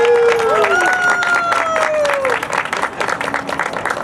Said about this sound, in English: let's give a big round of applause for Fuel So Good as they cut the ribbon